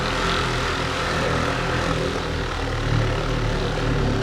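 A powered polisher runs continuously, buffing compound on a car's clearcoat finish with a dense, steady droning whir at close range, loud and alone without talk.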